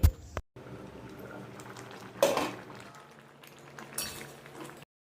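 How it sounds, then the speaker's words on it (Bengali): Fish roe omelette curry simmering in a covered pan on a medium-low gas flame, a faint, soft bubbling broken by a couple of brief clinks from the pan and lid. "তো তারপরে ঢাকা দিয়ে আরও 3 থেকে 4 মিনিট সময় ধরে ঝোলটাকে রান্না করতে হবে।"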